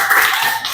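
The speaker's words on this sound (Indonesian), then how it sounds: "Oke, tepuk tangan buat Aizam." A short burst of classroom applause for a student, several hands clapping together close by, lasting under a second.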